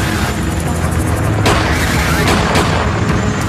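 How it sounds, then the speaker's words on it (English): A few sharp gunshot cracks ring out over a dense, roaring wash of noise, muffled and distant, during the 1993 ATF raid on the Branch Davidian compound at Waco. "As the first agents approach, gunfire erupts."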